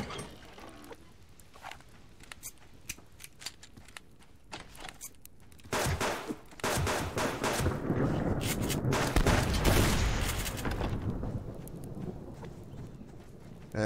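Gunfire in the survival game Subsistence, with scattered shots at first, then a loud rapid barrage that runs for several seconds before tapering off, and no voices over it.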